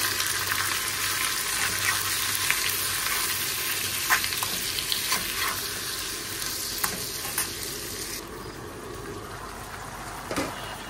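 Mutton tripe cooked with potatoes fries in a pan with a steady close sizzle, broken by scattered scraping and stirring clicks, with no talk over it.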